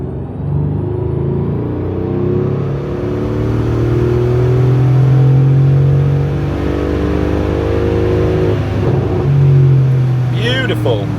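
A Mercedes S63 AMG engine in stock tune revs up through the gears under load, a loud droning rumble that rises in pitch, dips at each shift and climbs again.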